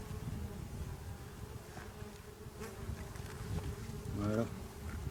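Steady droning buzz of many honeybees close by at a nucleus hive being inspected, continuous and busy, with a brief louder swell near the end.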